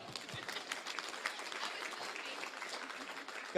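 Applause from the audience at a sales conference in San Antonio, fairly faint and distant, a thin, steady patter of clapping that runs throughout without talk over it.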